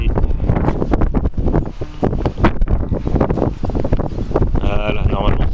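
Strong wind buffets the microphone outdoors in an open meadow during metal detecting, a loud continuous rumble with gusts, under someone talking throughout.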